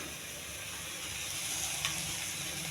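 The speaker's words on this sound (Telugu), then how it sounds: "ఇది పచ్చివాసన పోయేంత వరకు వేయించుకోండి." Ginger garlic paste fries with onions in a pan, a soft steady sizzle and hiss close by with faint stirring and no talking.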